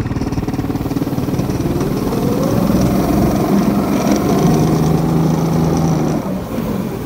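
A 6.5 hp motorized tow dog, a snowmobile-style pusher, revs under throttle with a loud, steady small-engine drone that climbs in pitch and holds, easing slightly near the end.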